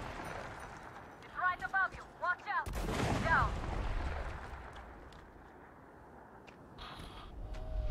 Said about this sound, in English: You're supposed to shoot it.